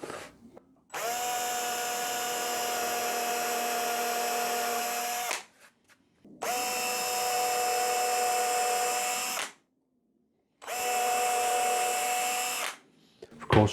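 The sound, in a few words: drilling with a 2.5mm drill bit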